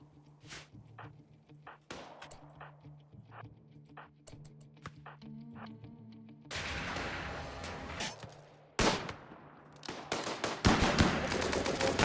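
RimWorld combat gunfire: sparse sharp shots at first, then heavier sustained bursts and rapid volleys building louder toward the end, game sound effects with no voices over them.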